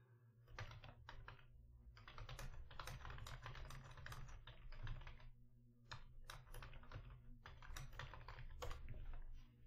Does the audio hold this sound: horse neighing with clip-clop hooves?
no